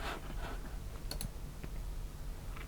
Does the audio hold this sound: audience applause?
no